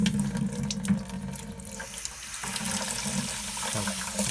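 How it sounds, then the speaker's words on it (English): Hot water gushes steadily from an open water heater drain valve during a flush, a continuous splashing rush with slight surges, close by and without talk. "So I'm gonna turn on this valve. This water obviously it's going to be hot."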